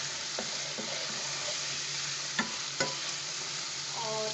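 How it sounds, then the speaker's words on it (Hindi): Garlic ginger paste frying in a pan while being stirred, a soft steady sizzle with a few sharp scraping clicks of the spoon against the pan. "अब लहसुन अदरक का पेस्ट ऐड करेंगे और इसको हम फ्राई करेंगे"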